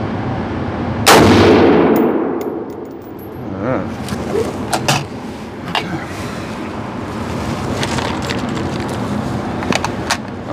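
A single loud, sharp rifle shot from a Loki Weapon Systems AR-15 at an outdoor range cracks out near the start, then its echo trails off into faint ambient noise and small clicks.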